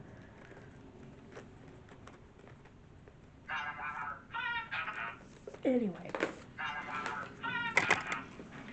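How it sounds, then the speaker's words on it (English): A phone alarm chimes in short patterned bursts of beeping tones, quiet and somewhat distant, with a brief spoken word partway through. "that's my alarm"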